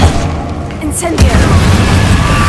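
An Incendio fire spell goes off in a video game with a loud, booming whoosh-like burst that rumbles on, alongside a spoken incantation and other game noise.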